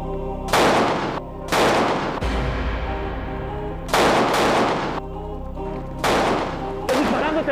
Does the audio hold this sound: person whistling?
no